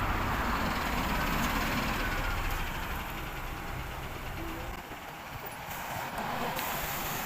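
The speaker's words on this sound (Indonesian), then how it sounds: "Oke, ini bisnya udah datang ya minasang." A Japanese public city bus pulls up at a crowded stop, its engine a low, steady rumble with street noise close by that dips slightly partway through, and no clear voices.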